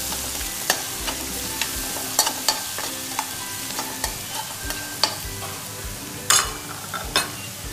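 Crushed green chili, garlic and ginger sautéing in a pan for a spicy prawn dish: a soft continuous sizzle broken by sharp spatula clicks and scrapes at irregular intervals, close and moderately quiet, with no voices.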